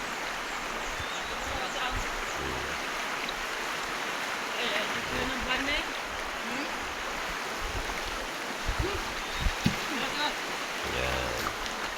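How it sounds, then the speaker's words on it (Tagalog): A flowing stream in Davao Oriental rushes with a steady, broad wash of water close by, and voices murmur faintly underneath at times. "Sapa na yan."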